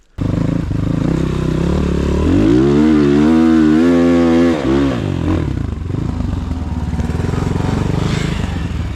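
A Rottor Bronx 300 motorcycle carrying two riders revs close by, its engine note rising and holding in a loud whine before dropping back to a steady idle-like drone.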